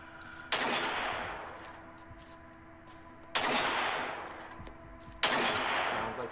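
Three loud bursts of gunfire-like noise from a thrown noise-making decoy in the game Angels Fall First, each a sharp onset with a long decaying tail, spaced a couple of seconds apart, with no voices.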